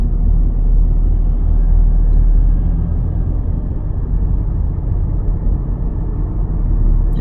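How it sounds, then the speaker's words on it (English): Steady car interior road rumble while driving along streets lined with old buildings in Bardstown, Kentucky; a continuous loud low engine and tire drone with no talking. "Now we're driving through Bardstown."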